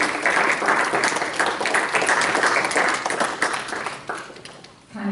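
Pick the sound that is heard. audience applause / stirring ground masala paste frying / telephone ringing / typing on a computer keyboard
audience applause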